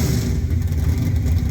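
An LS-swapped Buick Grand National accelerates hard in second gear, a loud, dense low engine rumble and roar with some clatter, close and continuous.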